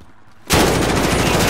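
Gunfire in Call of Duty: Modern Warfare erupts after a brief quiet moment into a loud, sustained burst of rapid automatic shots, close and harsh, with no talking over it.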